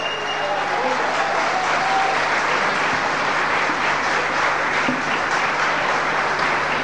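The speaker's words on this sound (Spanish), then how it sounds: "El aplauso bien grande para ellos." Guests at a wedding burst into strong, continuous applause for a newly declared married couple, loud and close, with faint voices mixed under the clapping.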